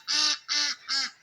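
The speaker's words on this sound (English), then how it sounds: "It's probably just a bird, you guys." A bird in a yard after a tornado calls three times in quick succession, loud honking, goose-like cries with a steady rhythm, close and with no talk over them.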